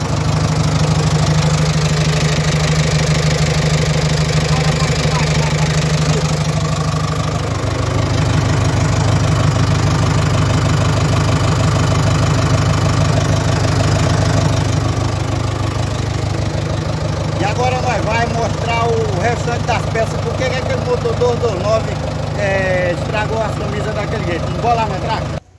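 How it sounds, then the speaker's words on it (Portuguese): A worn X10 diesel engine that is blowing by runs loud and close with a heavy, knocking idle, its rhythm shifting partway through as people talk over it. "Esse é um X10, o motor que eu falei que tava soprando."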